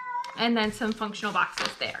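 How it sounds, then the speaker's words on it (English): A house cat yowls in the background of a home room while a person talks steadily over it, the cat's cries partly buried beneath the speech. "Sorry if you can hear my cat screaming in the background."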